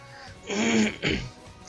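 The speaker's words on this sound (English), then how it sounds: "Sorry but I'm a little bit coughing." A single rough throat clear, two short harsh bursts close to the mic, then quiet.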